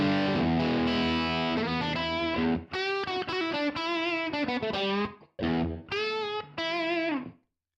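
Distorted electric guitar tone run through a Universal Audio UAD amp plugin with the high cut set to 6 kHz: a sustained chord rings out, then choppy phrases of single notes and chords stop and start before falling silent.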